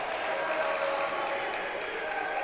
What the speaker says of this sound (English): Hear the chants from the crowd